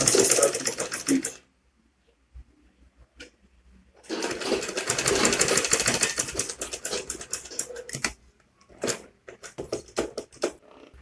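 A sewing machine backstitches Ankara fabric for a flat cap, running in short bursts with a pause partway through, close and fairly loud.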